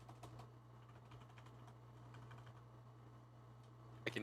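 Quick, faint keyboard typing in a quiet room over a steady low electrical hum, with a short cluster of sharper keystrokes right at the end.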